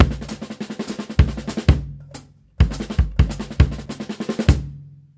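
A drum kit plays a steady groove with punchy bass drum hits landing on all the melody accents, cymbals and snare ringing between them, a brief pause midway.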